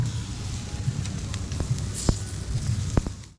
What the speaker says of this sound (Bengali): তো আমাদের বোনফায়ার রেডি হয়ে গেছে